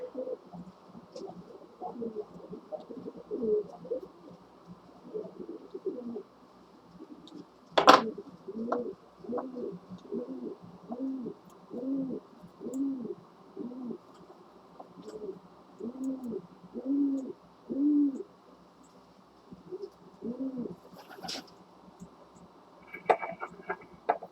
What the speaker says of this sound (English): That bird is just down trying to get my power cords